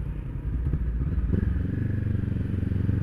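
Honda CB500X 500cc motorcycle engine drones steadily while riding, a low, even rumble with no talking over it.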